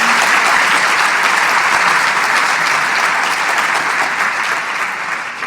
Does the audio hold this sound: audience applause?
yes